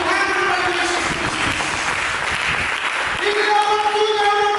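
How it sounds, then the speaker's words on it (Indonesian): A church congregation claps together during a sermon, steady dense applause throughout with a few voices and tones rising over it near the end. "Mari kita berikan tepuk tangan bagi Yesus Kristus."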